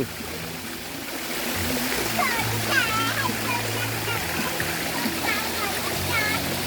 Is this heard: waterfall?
yes